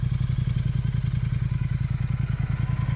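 A 2018 Triumph Thruxton 1200 R motorcycle idles close by with a steady, low, even pulsing beat. The engine rumbles alone throughout.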